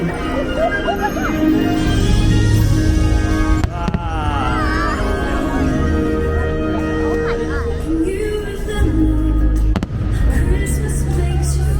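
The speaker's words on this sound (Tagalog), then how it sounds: "susunod na ang mga pagsabog ng mga fireworks." Fireworks bang and crackle in repeated bursts amid loud crowd noise at Disney California Adventure, with a person talking in Tagalog over the scene.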